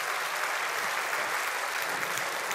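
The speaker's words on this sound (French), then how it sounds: "Nous applaudissons Benoît Mariage" Steady, dense applause from an audience at a Belgian cinema quiz event, greeting director Benoît Mariage, continuous and even throughout without any voices.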